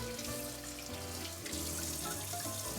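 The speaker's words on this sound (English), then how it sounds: "I grab them and I like to rinse them off with cold water" Cold water runs steadily from a kitchen sink tap as walleye cheeks are rinsed, a continuous splashing rush with faint clinks, close by and without talk.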